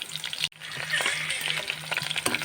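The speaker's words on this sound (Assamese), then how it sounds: "ইয়াত তেল গৰম হৈ গ'ল, তেজপাত দি দিছোঁ, তাৰপিছত পিঁয়াজখিনি দিলোঁ" Onions and a bay leaf sizzle and crackle loudly in hot oil in a pan, with stirring and a brief scrape near the start.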